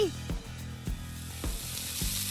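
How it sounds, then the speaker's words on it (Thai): Eggs fry in hot oil in a pan with a steady sizzle. Four evenly spaced thumps or knocks land over it, roughly every half second, and there is no speech. "นี่เธอทำให้มันเสร็จเร็วๆสิทอดไข่มันครึ่งชั่วโมงแล้วนะ"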